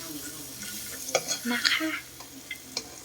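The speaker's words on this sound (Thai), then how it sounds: "วันนี้มาคั่ว ใส่น้ำมันนิดหน่อยเหมือนที่พี่ๆแนะนำมา" Crickets roasting in a little oil in a pan, with a soft sizzle and stirring scrapes, some louder crackling bursts in the middle, and a brief voice.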